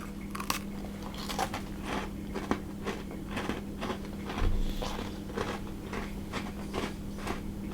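Speculaas spice cookies are bitten and chewed up close, a series of crisp crunches in an uneven rhythm over a low steady hum, with no talk.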